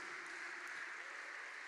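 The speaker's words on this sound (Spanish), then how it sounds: "Alguien dele un aplauso al Rey de Reyes." Church congregation applauding, a steady dense wash of clapping throughout, fairly faint and continuous with no talk over it.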